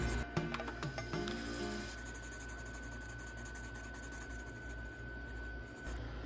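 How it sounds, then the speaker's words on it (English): Pencil shading over an ink drawing, a soft steady scratching and rubbing of graphite on paper, close and quiet, continuing without pause against a faint background hum. "now I am once again just adding some shading with the pencil"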